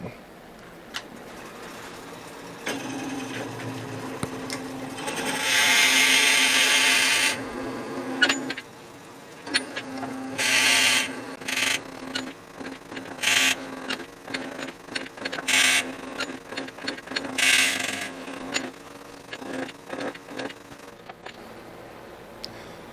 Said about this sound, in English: let's just drill this out